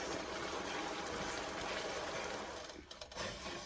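Grease from a sloppy joe meat mixture drains through a kitchen strainer in a steady, close, hissing trickle that runs almost without a break, then briefly thins and sputters near the end.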